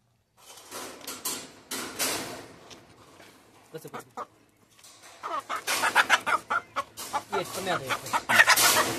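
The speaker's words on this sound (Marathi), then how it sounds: "एवढा गावरान असलेला कोंबडा सुद्धा या कोंबड्यांसमोर हार मानलेली आहे" Clucking from a native village rooster and hens shut in a coop, bursts of busy, repeated clucks close by that start, pause briefly mid-way and then return louder and denser toward the end.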